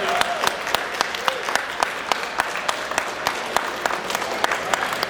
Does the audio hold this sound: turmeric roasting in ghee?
no